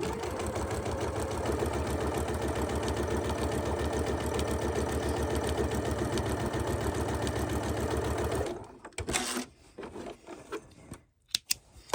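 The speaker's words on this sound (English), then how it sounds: "And there's my second row of stitching." A sewing machine runs steadily, stitching a second row along a lined zipper pouch with a ruffle, a loud continuous motor whir for about eight seconds before stopping, followed by a few faint handling rustles and clicks.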